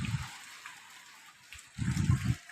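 Water falls into a tank in two short gurgling, splashing bursts, close and moderately loud, separated by a quieter trickle.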